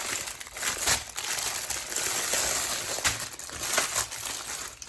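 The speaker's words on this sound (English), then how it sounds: "Sorry about the crinkling." Plastic packaging crinkles and crumples continuously in close, irregular bursts while a Homefun Flower Skull kit is unboxed, with no talking.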